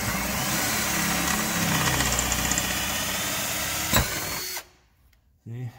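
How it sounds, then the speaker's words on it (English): A power drill whirs loudly and steadily for about four seconds while drilling out fasteners on a 2006 Lincoln's throttle body, then cuts off, leaving brief quiet before a short burst of noise. "then I'll just drill these out."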